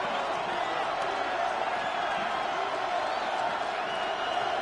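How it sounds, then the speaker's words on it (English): Stadium crowd at a football game, a steady dense roar of cheering and noise filling the whole stretch, loud and continuous with no break. "This crowd doing all they can."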